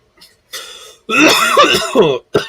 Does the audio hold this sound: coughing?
yes